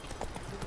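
Horse hooves clip-clop at a steady walk in The Witcher 3, a brief burst of close, even footfalls over a soft background.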